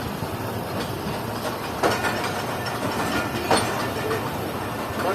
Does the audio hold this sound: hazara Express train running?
yes